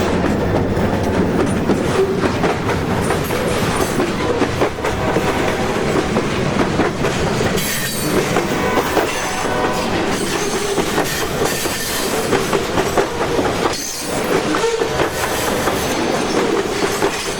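Steady rumble and rhythmic clickety-clack of an old Portland Western mixed freight train's wheels rolling over the tracks, loud and continuous throughout with occasional brief squeals.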